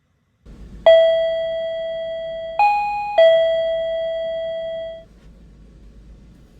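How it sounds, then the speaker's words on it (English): A new home doorbell rung by a visiting maintenance supervisor gives a loud, close electronic chime of three ringing tones, the last held longest before fading, with no voices. "rang my new doorbell"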